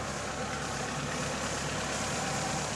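A Hyundai Santro car engine idles steadily right after an oil change, a close, continuous mid-pitched drone with no speech over it.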